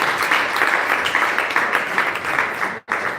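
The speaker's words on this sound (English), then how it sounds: "A round of applause for you" An audience at an entrepreneurial summit claps steadily in a dense, continuous wash of applause, briefly cut off near the end before resuming.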